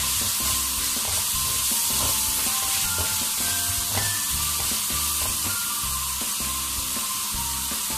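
Julienned ginger sizzles in a hot pan while cooking chicken karahi, a steady bright frying hiss with faint rhythmic stirring underneath, close and continuous.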